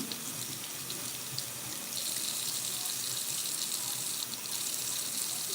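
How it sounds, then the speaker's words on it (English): Mushrooms are rinsed under a running kitchen tap. A steady, fairly quiet stream of water splashes continuously for the whole stretch. "So let me get the mushrooms rinsed first."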